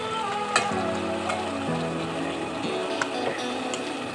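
Taro pieces fry with pork in its rendered fat, a close, steady sizzle that runs throughout under a faint tonal hum, with no talking.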